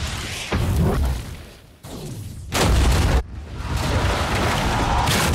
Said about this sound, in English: They give over the entirety of the full sound spectrum to the explosion, letting us experience it as close to the real thing as possible.